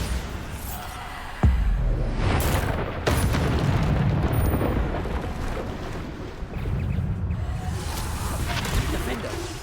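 Bombarda, the explosion spell in the Hogwarts Legacy video game, lands as a sudden heavy boom with a sharp onset, followed by further thumping blasts and sustained rumbling in the game's busy soundscape.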